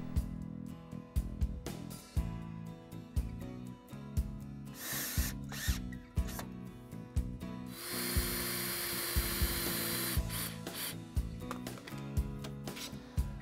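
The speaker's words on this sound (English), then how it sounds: "Once they're all in place, attach with screws." A power drill drives screws into a southern pine potting table. Repeated short whirring bursts at a steady pace are followed by one longer, louder grinding run, all close by and with no talking.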